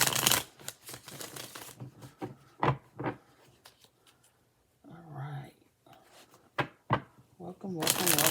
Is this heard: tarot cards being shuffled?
yes